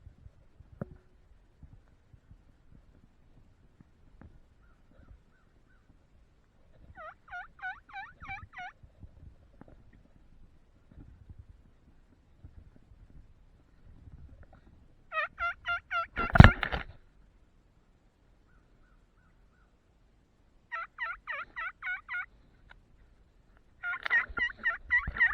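A wild turkey hen calls in the Wisconsin woods during a spring hunt, with several short bursts of yelping and clucking spaced apart and fairly close, between stretches of quiet and soft rustling.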